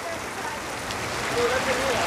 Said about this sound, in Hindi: पानी गिर रहा है काफ़ी ऊपर से